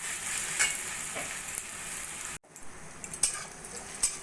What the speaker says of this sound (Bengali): পেঁয়াজ একটু আমি হালকা সোনালি করে ভেজে নেব।